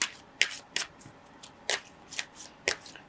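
Tarot cards being shuffled in a quiet room: a series of soft, crisp riffling bursts at irregular intervals, close and fairly faint, with no talking.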